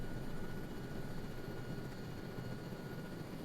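Enemy helicopter in the Arma 3 video game with a Vietnam-era Prairie Fire mod, rotor and engine noise as a steady, faint droning hum that holds even with no talk.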